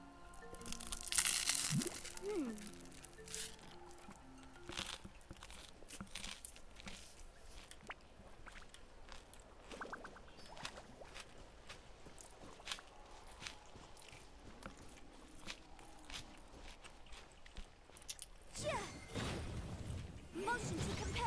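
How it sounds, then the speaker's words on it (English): Someone eating a sandwich with onions: soft, close crunches and chewing noises at irregular moments, quiet throughout, with some faint background sounds. "you guys are gonna hear me like crunch crunch."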